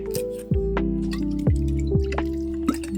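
Mirin and rice vinegar poured for kimchi make close, gurgling drips and glugs, with small liquid splashes and rising pitch as the container fills, heard clearly without talk.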